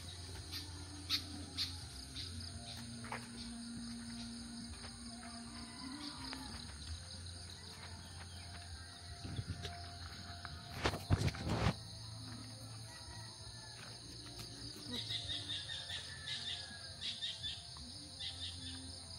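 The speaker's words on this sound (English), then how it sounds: "that's how we are hearing the grasshoppers." Steady grasshopper chirping fills an outdoor morning field scene on a farm, with scattered bird calls and a brief louder rustle midway.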